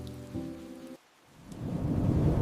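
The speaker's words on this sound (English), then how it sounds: "Even seasonal rain enhances the rhythm of mountain life." Steady seasonal rain falls in the mountains of Bhutan, a dense hiss that swells louder after a brief lull, with a deep rumble and a low tonal hum early on.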